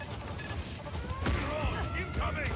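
A barrage attack in the video game Paladins, made of a dense rush of rapid impacts and whooshing projectile sweeps, heard over constant game noise while a person talks and laughs.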